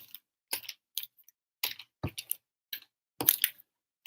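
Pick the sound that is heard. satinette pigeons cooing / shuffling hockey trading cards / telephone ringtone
shuffling hockey trading cards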